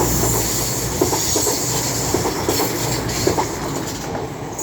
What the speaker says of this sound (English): Now coming through is a cross-country Voyager from Bournemouth to Manchester Piccadilly.